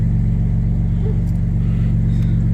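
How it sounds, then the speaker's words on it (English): A 1967 or 2001 Ford Mustang engine runs steadily at idle, a close, constant low rumble with an even throb that neither rises nor fades across the short stretch. "Well, there it goes, guys. It still runs great."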